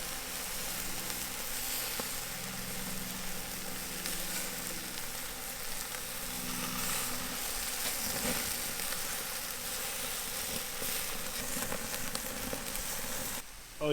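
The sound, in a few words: Korean galbi beef short ribs sizzling over charcoal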